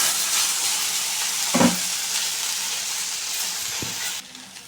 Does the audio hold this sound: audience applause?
no